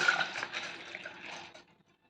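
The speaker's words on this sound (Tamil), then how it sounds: "இப்போ தண்ணியை வடிய வச்சிடலாம்" Water draining off soaked raw rice after washing, a soft, faint trickle that fades out after about a second and a half, with no voices.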